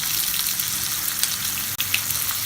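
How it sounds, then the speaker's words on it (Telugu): Turmeric, green chilies and chopped ginger frying in hot oil in a pan, a bright, steady sizzle with crackling pops, loud and close with no talking. "ఇప్పుడు కొంచెం పసుపు, పచ్చిమిరపకాయలు, అల్లం తరుగు వేసి కొంచెం సేపు ఫ్రై చేయాలి."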